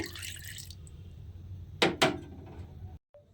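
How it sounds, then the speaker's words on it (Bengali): Water is poured and splashes while a mixer jar is rinsed into a bowl during home cooking of masoor dal, with two short, close splashes after a murky start, then a brief clink. "এইবারে আমি এর মধ্যে মিক্সিটা ধুয়ে অল্প সামান্য একটু জল দেব।"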